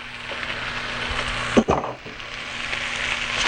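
Chopped scallions stir-fry in a hot pan, giving a steady sizzle broken by a brief stirring scrape partway through.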